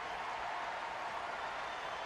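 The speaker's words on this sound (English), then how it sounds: "As you hear the crowd roaring its approval, the Philadelphia Flyers alumni win it going away." A hockey crowd at a Philadelphia Flyers alumni game roars and applauds in a dense, steady wash of cheering with no pauses.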